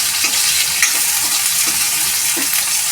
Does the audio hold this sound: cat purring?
no